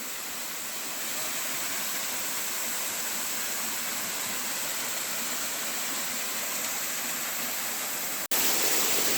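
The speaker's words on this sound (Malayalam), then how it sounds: "നല്ല കിടു വെള്ളച്ചാട്ടവും." Steady close roar of the Kappimala waterfall in Kannur, a dense rushing wash of water that holds constant throughout, briefly jolting louder near the end, with nobody speaking.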